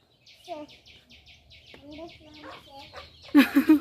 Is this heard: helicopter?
no